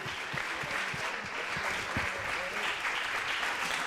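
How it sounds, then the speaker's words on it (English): Audience applause at the close of a literary session with author Vikram Chandra at a book fair in Valladolid, a sustained, even wash of many hands clapping at moderate distance, continuing throughout. "Please join me in a round of applause to Vikram Chandra"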